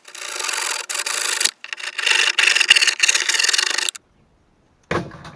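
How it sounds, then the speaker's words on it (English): A hand saw cuts through an epoxied wooden fillet on a Pahi 31 catamaran restoration, with rapid rasping back-and-forth strokes, close and loud, a short pause, then a final scrape after silence. "I should be able to saw through this now."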